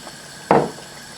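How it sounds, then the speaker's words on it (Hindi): Leftover chicken stock goes into a pot of Kashmiri murgh malai with one short, loud splash midway, in an otherwise quiet kitchen. "जो चिकन की यखनी यानी कि स्टॉक बची थी वो भी हम बीच में ऐड कर रहे हैं।"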